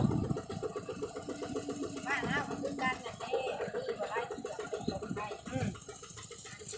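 A Thai e-taen farm tractor vehicle chugs along with a steady, rumbling engine while people ride it toward town, and voices talk over the engine throughout.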